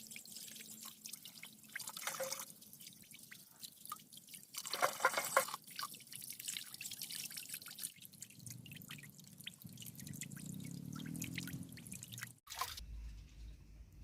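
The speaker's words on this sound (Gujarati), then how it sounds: "આપણે આ બધું હવે પાણીથી ધોઈ નાખીએ" Water drips, trickles and splashes as onion, chillies, garlic, green garlic and coriander are rinsed for paneer tikka masala, with irregular pours and splashes that are fairly faint and close, and no talking.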